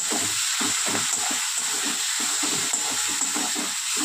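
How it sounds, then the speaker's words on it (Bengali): Ground cumin and coriander fry in oil in a pan for a Bengali fish curry, giving a steady close hiss and sizzle with soft scraping stirs underneath. "তেল ছাড়া অবধি কষিয়ে নেব।"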